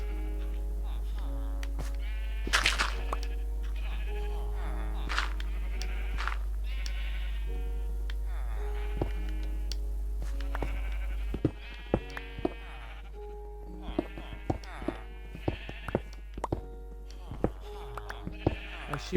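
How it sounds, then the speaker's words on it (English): Sheep bleat repeatedly in the video game Minecraft, short wavering calls popping up over game music and a steady low hum, with clicks and a few sharp sounds scattered among them. "I can hear the sheep."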